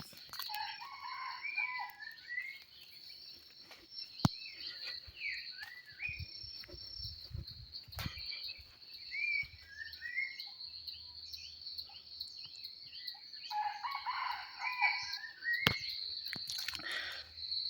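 Wild junglefowl crow repeatedly at dawn outdoors, several distant calls rising and falling over a constant high insect or cricket drone, with occasional thumps and soft rustling nearby.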